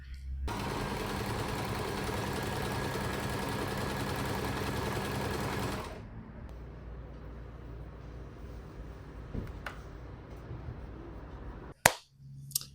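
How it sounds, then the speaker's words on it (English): Sewing machine stitching elastic onto a pair of Arthur pants, a steady, loud mechanical whir that runs for several seconds, then stops, leaving quiet room noise and a few small clicks and knocks. "now I'm going to sew it on, put the elastic in, and then hem the pants"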